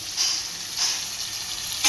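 Chicken liver pieces fry in hot oil while being stirred, giving a close, bright sizzle with brief scraping swells as the pan is mixed.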